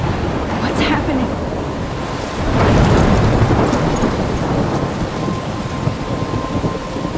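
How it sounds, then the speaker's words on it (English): A thunderstorm with rain in Life is Strange, with dense loud rain and wind hiss and a rumbling thunder surge midway, carrying on steadily with no voices. "I'm trapped in a storm?"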